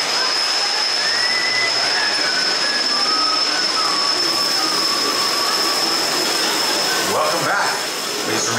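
A wooden roller coaster train (Bobcat, Six Flags Great Escape) rumbles and clatters along its track with a steady roar, wheels squealing at times, and a voice speaks faintly over it.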